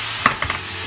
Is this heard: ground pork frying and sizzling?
yes